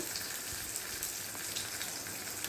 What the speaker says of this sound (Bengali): মাছটা ভাজা হয়ে গেছে, এরপর আর কিছুটা কড়াইয়ে আছে